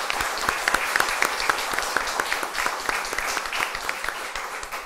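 A church congregation at Sunday Mass claps steadily, a dense and even wash of many hands with a few sharper claps cutting through, heard from within the crowd.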